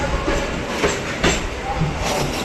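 A daily passenger train running from Kolkata station rolls along with a steady, close rumble and light rhythmic wheel clatter over a brief stretch, with no clear speech.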